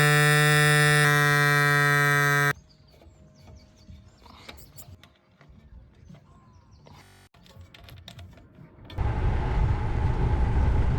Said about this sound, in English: I'm just going to use my little Side Plus electric pump to get them onto the right pressure